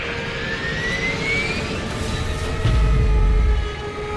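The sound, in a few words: C-130 plane flying in Left 4 Dead 2 video game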